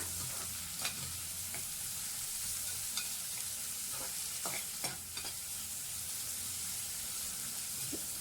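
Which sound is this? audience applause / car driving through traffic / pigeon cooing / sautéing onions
sautéing onions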